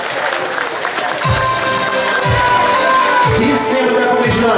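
Festival crowd at a Toronto Ukrainian festival applauding and cheering, a steady dense wash of clapping with whoops over loud rhythmic music and deep thumping beats throughout.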